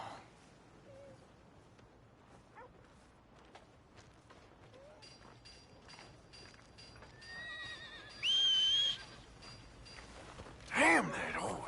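A horse whinnies loudly twice near the end, with hoofbeats and faint background murmurs earlier, in a game-like setting.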